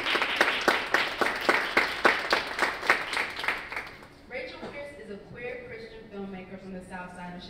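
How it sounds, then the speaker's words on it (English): A library reception audience claps for a speaker in a distinct, fairly regular pattern of strong claps that stops about halfway through, after which a voice talks. "Y'all give a round of applause for Rachel"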